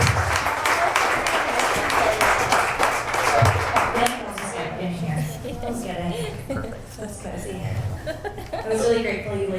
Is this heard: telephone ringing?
no